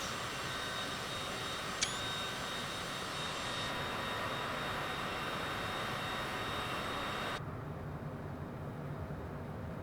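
A Cessna Citation jet in Microsoft Flight Simulator gives a steady, faint engine whine and hum in flight, with a brief click partway through and a sudden drop in high tone near the end.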